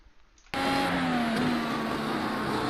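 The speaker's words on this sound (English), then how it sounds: "You can hear the engine note go in." A Mercedes F1 W13 engine in iRacing cuts in suddenly after a near-silent moment and holds a loud, high, steady whine with a slight rise in pitch, heard close with no talk.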